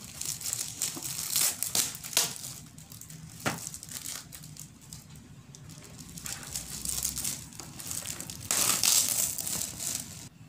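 A gift package being unwrapped up close, with bursts of crinkling and crumpling wrapping paper and occasional tearing, loud rustles coming in uneven waves with short pauses.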